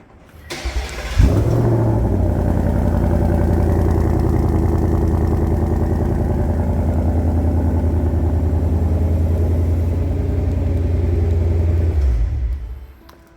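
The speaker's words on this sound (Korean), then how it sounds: "GT 모델의 배기음은 또 못 참죠." A V8 engine fires up and settles into a deep, steady exhaust rumble that idles loudly for about ten seconds before cutting off.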